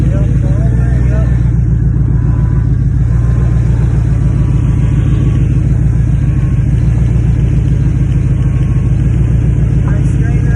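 Running car engine with a deep, steady idle rumble and strong low throb that carries through the whole stretch, loud and close, with people talking faintly over it.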